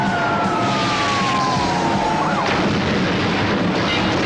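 Police car sirens wail in a 1980s movie car chase, a falling siren tone sweeping down over a dense, loud roar of engines and action noise, with a sharp burst partway through.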